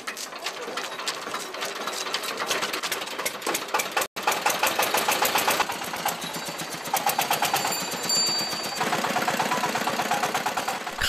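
A decorated tractor engine chugs during a Tibetan spring ploughing festival, a rapid, steady mechanical knocking that runs close and continuous with one brief cut.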